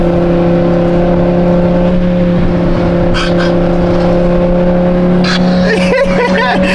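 A loud car engine with a newly installed exhaust runs with a steady, deep droning hum, a few brief rises in pitch breaking through.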